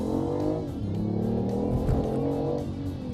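Engine note of a BMW i8 with its 1.5-litre three-cylinder, a loud, steady, throaty drone with rich low harmonics that swells in a revving surge midway, close and continuous, with no talk.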